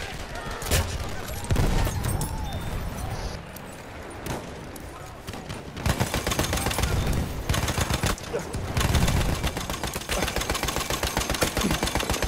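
Rapid video-game gunfire from Battlefield 1 crackles in dense bursts throughout, loud and steady, with heavier volleys toward the end and occasional voices mixed in.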